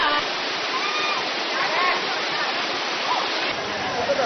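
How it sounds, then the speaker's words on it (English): A waterfall pours with a dense, steady rush of water heard up close, loud and unbroken for the whole stretch, with small shifts in the spray. "this is me going up the waterfall"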